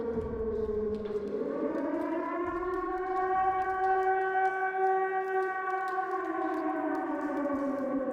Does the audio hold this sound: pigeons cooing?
no